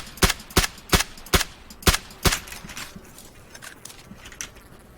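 Six sharp gunshots in PlayerUnknown's Battlegrounds crack in fairly quick succession, then trail off into softer, distant pops and faint ambient noise.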